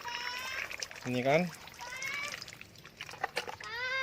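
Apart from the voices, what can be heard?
rice-washing water poured onto orchid growing medium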